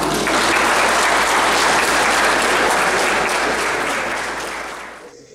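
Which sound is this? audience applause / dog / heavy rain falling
audience applause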